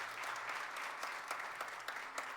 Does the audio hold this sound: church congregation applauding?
yes